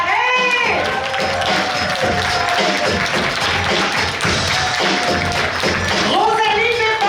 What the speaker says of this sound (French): On l'applaudit fort Alexandre Paré!